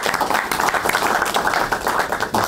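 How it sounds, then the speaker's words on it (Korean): Audience applause greeting a guest speaker at a forum seminar, dense steady clapping throughout with a faint murmur of voices underneath. "큰 박수로 맞이해 주시면"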